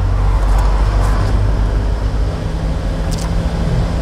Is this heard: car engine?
yes